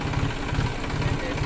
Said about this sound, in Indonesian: New Holland TT45 ini bermesin 3 silinder.